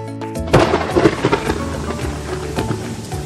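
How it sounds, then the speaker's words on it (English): A rolling peal of thunder with a deep low rumble that swells after a brief quiet start, then settles into a steady wash of rain. "Thunder."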